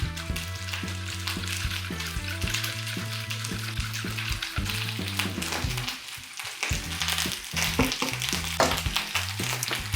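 Potatoes frying in a pan with garlic and sauce, a continuous sizzle with occasional stirring scrapes, heard beneath steady background music and without speech.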